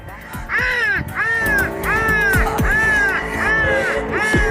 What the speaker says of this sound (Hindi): ये फौज आ रही है पूरी कौवों की।